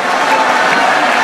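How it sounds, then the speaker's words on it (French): Assembled delegates from the Grand Kasaï region applaud at a large gathering, a brief continuous burst of many hands clapping, loud and even, filling the room without a break. "est-ce qu'on peut bien applaudir pour le Grand Kasaï?"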